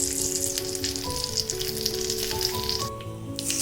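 Curry leaves and asafoetida sizzle in hot oil while tempering a coconut chutney, giving a steady, close crackling fry that holds for the whole stretch with no voices.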